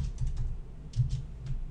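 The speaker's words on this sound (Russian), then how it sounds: "I'm typing it." Typing on a computer keyboard, a quick run of soft key clicks in two bursts with a short pause between them, close and fairly quiet with no talk.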